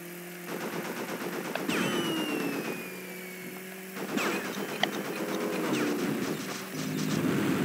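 Rapid laser-like gunfire from Coco's ship shooting down blips in the futuristic Crash Bandicoot: Warped racing level, with repeated bursts and sweeping zaps over a steady engine-like background.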